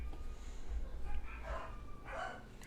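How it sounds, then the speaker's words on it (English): A dog barks a few times at a distance, faint yips and bow-wows under a low room hum. "My dog's very loud."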